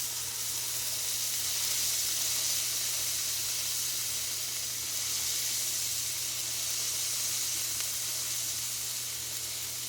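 A burger patty for a homemade Baconator sizzles on a griddle right after being flipped, a steady close hiss and crackle with no voices.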